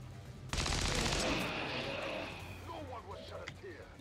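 Gunfire from a headshot in the turn-based strategy game XCOM 2 on Legendary Ironman, a sudden loud crack opening into a sustained rumbling roar that fades slowly, with brief voice fragments near the end.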